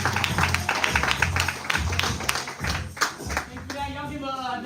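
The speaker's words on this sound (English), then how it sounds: "Give a big hand to the incredible Ross." A live audience claps for a presenter being introduced, fairly close, uneven hand claps that thin out while voices talk over them.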